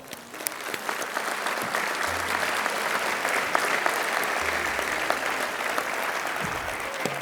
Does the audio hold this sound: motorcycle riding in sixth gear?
no